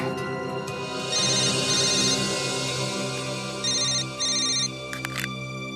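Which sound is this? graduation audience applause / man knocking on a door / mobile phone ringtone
mobile phone ringtone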